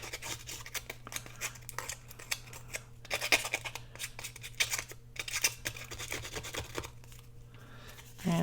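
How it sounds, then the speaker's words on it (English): Scissors scrape and snip along the straight edges of small paper scraps to rough them up for shabby chic page borders, a close run of quick rasping strokes in irregular bursts over a low hum. "So I'm going to rough them up some with my scissors"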